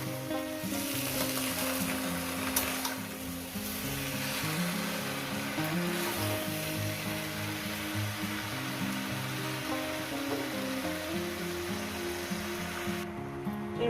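Katla fish head curry with Malabar spinach and pumpkin sizzles steadily in a pan over medium heat as it is slowly stirred, the frying hiss continuous beneath music playing in the background.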